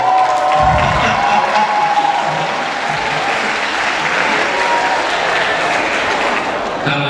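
A large audience at a Mandarin talk claps loudly and steadily, a dense roar of many hands, with a few faint cheers and murmurs running through it.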